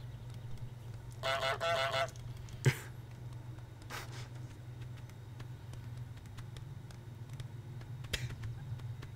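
Goose honks from Untitled Goose Game, a video game: a quick cluster of stacked, buzzy honks early on, then a sharp thud and a couple of brief knocks over a steady low hum.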